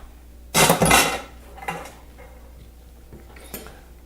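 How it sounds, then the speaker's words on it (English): A spoon stirs beef stew in a pot after seasoning salt and sherry go in, giving one loud burst of scraping and clanking followed by a few fainter knocks against the metal. "Mix that all around a little bit."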